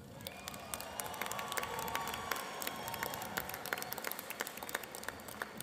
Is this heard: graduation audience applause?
yes